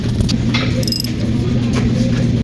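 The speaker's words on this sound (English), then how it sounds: "Now we'll be reinstalling our caliper bracket." A car brake caliper bracket is refitted during a basic brake service, with close metallic clanks, ratcheting clicks and a steady mechanical whir running loud throughout, then cutting off abruptly.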